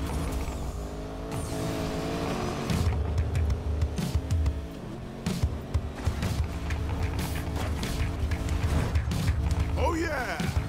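Off-road cars race in Need for Speed Payback, engines droning steadily with revs and occasional tire squeal, loud and continuous under background speech and game audio.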